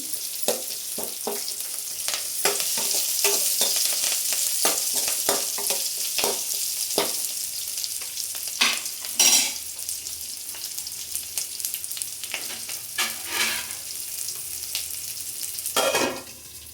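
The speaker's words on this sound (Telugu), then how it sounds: "ఇప్పుడు వీటిని బాగా ఫ్రై చేసుకోవాలి. రెడ్గా ఫ్రై చేసుకోవాలి." Onions fry in a pan until they turn red, with a steady sizzle under repeated spatula scrapes and clacks against the metal, close and fairly loud, with no voices.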